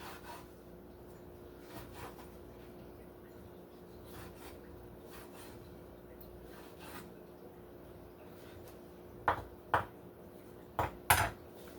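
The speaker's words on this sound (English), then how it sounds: "So I'm just going to give these just a rough chop" A knife roughly chopping sun-dried tomatoes on a board, scattered faint cuts and scrapes followed by a few sharper, louder chops near the end, with no talk.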